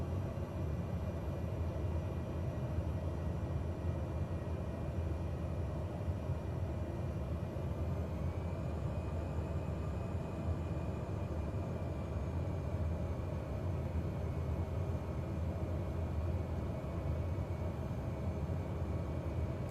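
A steady, unbroken engine drone and wind hiss from an airplane on its landing approach in Microsoft Flight Simulator, with no talk over it and a constant level from start to finish.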